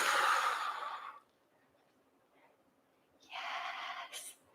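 Two long, breathy exhales during a yoga pose, heard up close with a quiet pause between them.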